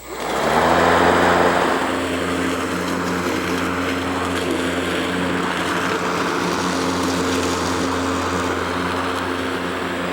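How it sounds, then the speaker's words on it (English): A Mowrator S1 off-grid electric lawn mower starts its blade and mows grass, a steady loud high-pitched motor whine with strong harmonic hum, swelling at startup and then holding continuously, close by with no talking. "But let's get started mowing this grass."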